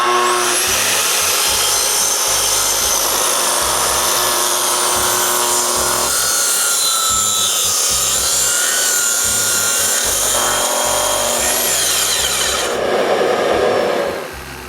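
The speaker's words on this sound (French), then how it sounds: "C'est assez facile à savoir où plonger avec cette scie-là." Plunge circular saw cutting into a wooden beam during workshop construction, a loud continuous high whine of blade through wood holding steady for most of the cut, then a brief shift in pitch near the end with no talking.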